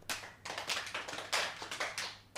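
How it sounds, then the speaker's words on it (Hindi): Someone claps their hands during a guided meditation-style exercise, producing a series of crisp, close claps at an uneven pace, quiet overall and with no talking. "तीन बार तालियां बजाएं।"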